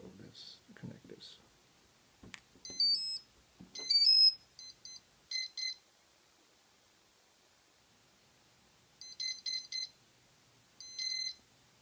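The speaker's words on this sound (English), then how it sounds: "the ESC beep two times very quickly" A MultiWii drone's ESCs give their calibration beeps in several quick groups of short, bright electronic tones with silent gaps between them, after some brief noise and a voice at the start.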